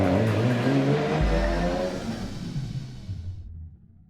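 Race engine of a G55 GT car, a road car converted for racing, revving loud and close, then a sharp burst of acceleration that fades away into the distance.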